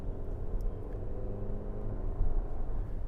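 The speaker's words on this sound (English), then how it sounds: "Okay, now we're getting up more on the gas" 2024 Lexus TX350 Premium AWD accelerating on the gas, a low, steady engine rumble with road noise from inside the cabin, building slightly as the speed rises.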